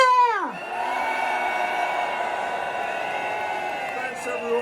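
A crowd at a farmers' rally bursts into loud, sustained cheering and whooping on cue, the roar holding steady for several seconds with shouts rising above it.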